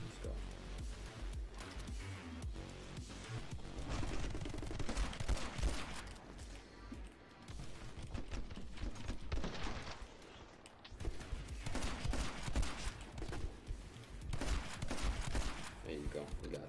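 Shotgun blasts crack out again and again during a frantic video game fight, loud bursts in irregular clusters mixed with other gunfire, while a person keeps talking over the action.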